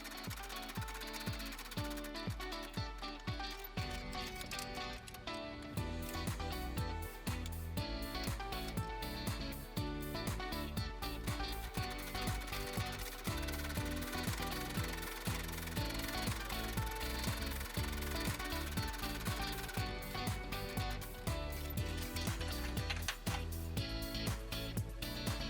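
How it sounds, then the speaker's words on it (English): Sewing machine stitching straight, steady lines across a quilted fabric bowl cozy with batting, a continuous close mechanical whirr with rapid needle pulses running nearly the whole time with no pauses. "Take this to your sewing machine and sew directly along both lines"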